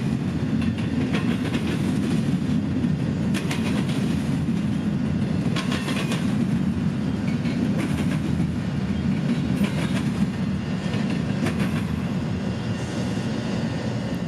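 A freight train running from Jacksonville's Simpson Yard to Inman Yard in Atlanta rumbles steadily past at close range, with a low continuous roll and repeated wheel clicks over rail joints. No one speaks.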